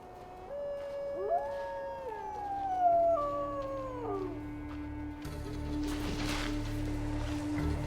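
A gray wolf howls in long, rising and falling drawn-out tones, alone and fairly clear, before a low rumbling background noise takes over near the end.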